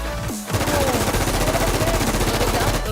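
Rapid automatic gunfire in the game Infestation, loud and continuous bursts following a brief shout.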